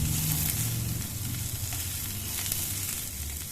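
Half a large onion, chopped, sizzles and fries steadily in a pan for a chutney, a constant close crackle with faint stirring and no voices.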